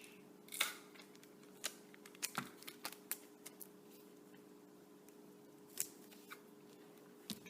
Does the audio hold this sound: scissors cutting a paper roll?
yes